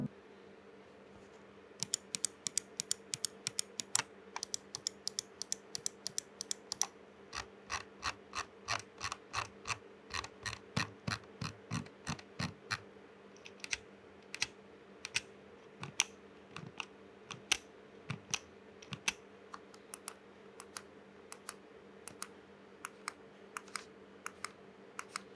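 Crisp side buttons on an Alienware 610M mouse click repeatedly, first in quick bursts and then as sparser single clicks, close and quiet against a faint steady hum.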